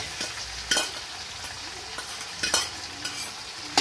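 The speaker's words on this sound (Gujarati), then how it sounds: "એને થોડી વાર સાંતળવા દઈશ" Ginger and green chilli paste sautéing in hot ghee with bay leaf and cloves in a pan: a steady close sizzle and crackle, broken by a few sharp bursts of spoon stirring, with no talk.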